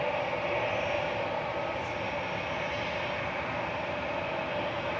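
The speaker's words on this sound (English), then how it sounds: "Next in is EasyJet from Reus. Airbus A320 GEZUO." An EasyJet Airbus A320 arrives at Manchester Airport, its jet engines producing a steady, broad roar that holds even and loud throughout with no voices.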